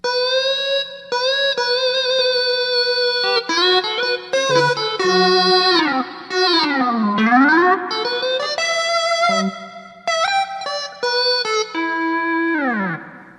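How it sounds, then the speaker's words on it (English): A guitar-triggered MIDI synth lead, played through a Graph Tech Ghost Hexpander, plays a melodic line of sustained notes with pronounced pitch bends sliding up and down, clean and close with no talking. "turn down the magnetic and piezo so you can hear the bends on the MIDI"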